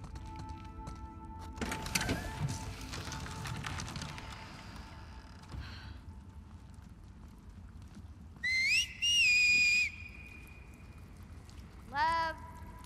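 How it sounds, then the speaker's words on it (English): Whistling from a character in The Last of Us Part II, a few short rising tonal whistles around the middle and end, clear over quiet game ambience with some shuffling and rustling. "Can't just whistle on people."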